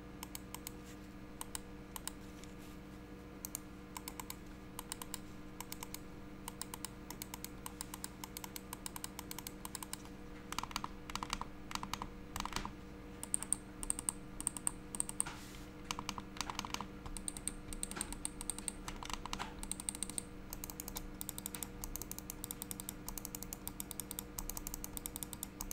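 Rapid typing on an NYK Nemesis Drake KC-300 gaming keyboard, a steady stream of close, crisp key clicks that grows busier and louder about midway, with no talking.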